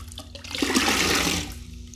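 Water gushes onto the Ultra Black car wash sponge to soak it: a loud, close rushing splash that swells for about a second and then tapers away.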